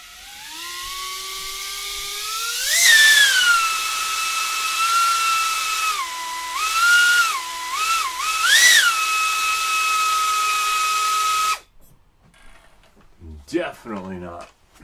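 Drone motors on a homemade build spin up under throttle with a rising, steady high-pitched electric whine that shifts pitch several times, then cut off abruptly. Voices talk briefly afterward.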